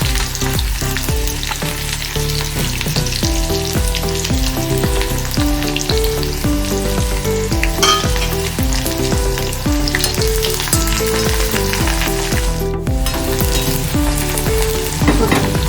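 Mustard seeds, urad dal, onion and curry leaves frying in hot oil, a loud continuous sizzle with occasional stirring, heard close over background music without talk.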